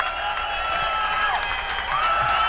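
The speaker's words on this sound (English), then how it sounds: "We're at what will turn out to be probably a short encore applause break" A crowd at a 1978 concert at the Paradise Theater in Boston applauds and cheers steadily through an encore break. The band is off stage and the dense noise of the hall holds level throughout.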